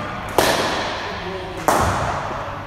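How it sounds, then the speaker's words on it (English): A cricket bat striking a ball in a one-to-one batting practice session, two sharp, loud cracks about a second and a quarter apart, each leaving a brief ringing decay in an otherwise quiet net. "Keep hitting it straight, same shot, come on. Hit it down the ground"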